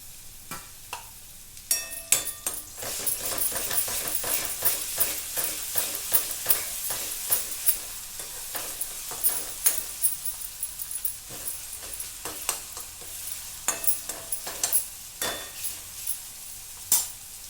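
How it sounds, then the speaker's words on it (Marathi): Garlic, ginger and coriander paste sizzles in a hot pan while a spoon stirs it, a steady bright frying hiss broken by frequent close scrapes and clinks against the metal, with no talking. "लसण अद्रक सांबाराची पेस्ट वाटून घेतली ती मी टाकून घेऊ आणि मस्त फिरवू"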